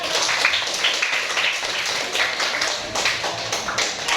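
Students in a classroom clap after a group presentation, a fairly quiet but continuous patter of many hands lasting several seconds, with no one speaking over it.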